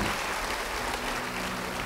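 A church congregation applauds during a sermon, a steady, broad wash of clapping that holds at an even level throughout, with no talk over it.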